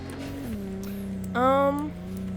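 A damaged car engine in the Night City video game drones low and steady while driving, with a rising whine or squeal bursting briefly midway under a background of game noise.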